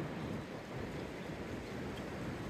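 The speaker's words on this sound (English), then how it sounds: "Lots of wind." Strong wind gusting up to 25 mph from all directions buffets a phone microphone fitted with a fuzzy glove windscreen, producing a steady, dense low rumble for the whole stretch with no speech.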